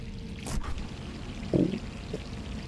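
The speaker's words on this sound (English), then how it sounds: "The water's running again." Water runs and pours in the Resident Evil 3 video game, a soft, steady flow with a brief louder splash midway and no speech.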